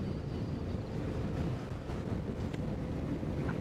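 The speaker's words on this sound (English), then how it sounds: "All the wind's coming down this valley, isn't it?" Strong wind rushes down a valley, a dense, steady roar buffeting the microphone without a break, with no voices.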